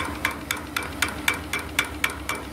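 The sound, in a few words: small water pump knocking on steam engine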